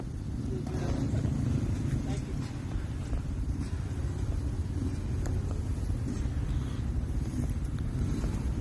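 Jeep engine rumbling steadily while driving off-road on an ORV trail in Braggs, Oklahoma, at a poker run event, a continuous low drone with faint mechanical knocks throughout.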